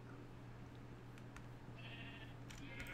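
Sheep in the video game Minecraft bleat twice, the calls short and moderately loud over a low steady background hum.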